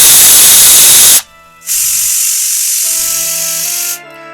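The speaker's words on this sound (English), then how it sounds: "we will pressure cook this rice for 3 to 4 whistles" Loud hissing bursts of a pressure cooker whistle while cooking rice, two long blasts separated by a brief pause, with a faint tonal whistle beneath the second.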